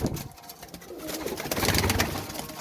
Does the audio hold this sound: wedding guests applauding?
no